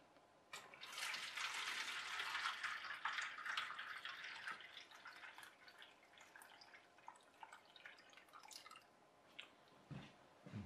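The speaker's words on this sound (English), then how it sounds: "put some water in" Water is poured into a small copper and aluminium saltwater battery cell, making a steady, quiet splashing trickle that breaks into a few drips at the end.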